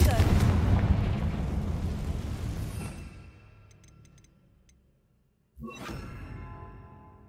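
Bombarda explosion spell cast in the video game Hogwarts Legacy: a loud, dense blast that rumbles and decays over about three seconds, then near-silence, followed by a second sharp burst of impact noise.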